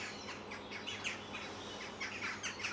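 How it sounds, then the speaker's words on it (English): Several birds sing at dawn on a summer morning, overlapping chirps and tweets repeating in quick bursts at moderate distance, with no talking. "The birds are singing."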